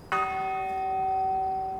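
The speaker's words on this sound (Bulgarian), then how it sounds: "Ето е камбаната" A single bell struck in the video game Pathfinder: Wrath of the Righteous, one clear clang with a long, steady ringing tone that sustains and slowly fades.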